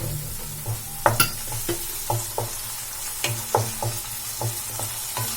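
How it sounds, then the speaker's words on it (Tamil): Onion and tomato sauté in a hot pan, giving a soft continuous sizzle under a string of sharp scraping stirs and spoon clacks at an uneven rhythm, heard close up with no talking. "தக்காளி வந்து நல்லா வதங்கட்டும்."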